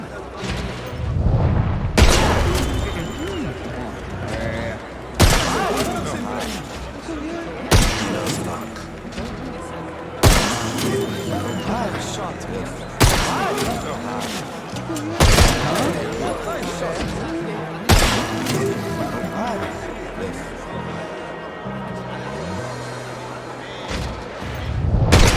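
Gunshots fired at shooting-range targets in the video game 007 First Light, heard as loud, sharp blasts spaced every few seconds over a steady game soundtrack, with voices speaking between shots.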